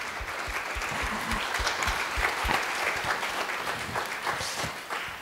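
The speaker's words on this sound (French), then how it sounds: "On peut l'applaudir." Sustained, dense applause from an audience at a conference on animal welfare, dogs and people, a steady close clatter of clapping hands lasting the whole stretch with no talk over it.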